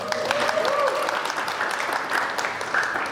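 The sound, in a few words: church congregation applauding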